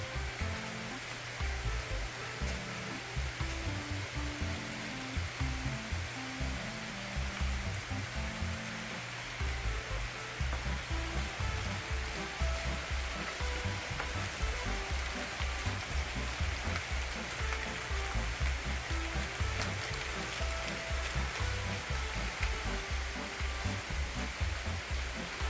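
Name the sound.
rain starting to fall on a patio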